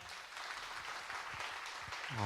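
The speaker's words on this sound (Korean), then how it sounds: "박수 한번 칠까요?" A congregation at a Korean church's university Sunday worship service claps together, a bright, dense burst of applause that holds steady for a couple of seconds before a louder tonal sound enters at the end.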